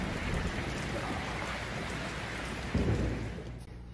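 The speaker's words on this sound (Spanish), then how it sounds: "Ahora es que va a llover." Steady heavy rain pours down outside, a dense continuous hiss, with a low rumble of thunder swelling near the end; no voices are heard.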